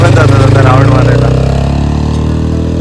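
A small motorcycle engine idles and putters loudly up close at a resort farmhouse, its uneven chugging steadying and fading slightly as it pulls away.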